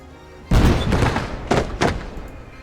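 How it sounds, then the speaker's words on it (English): Mortar fire in the video game Blood Red Snow: a heavy booming blast lands near and loud, followed by two further sharp thumping impacts about a second apart, each fading into a rumbling tail. "that's mortars dealing with that"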